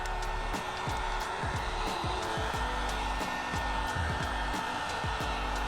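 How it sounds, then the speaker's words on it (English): Heat gun blowing a steady, close, loud airflow while heating a chrome delete wrap on the curved edge of a KIA EV front grille, with faint background clicks and no talk. "So apply heat using your heat gun."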